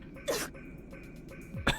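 A character's cough in the Umineko When They Cry visual novel, a short harsh burst near the start and a second one at the end, set over a quiet background tone.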